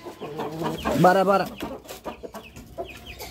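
Aseel fighting rooster in a shed clucking with a run of harmonic calls, close and fairly loud, while someone talks over and between the sounds.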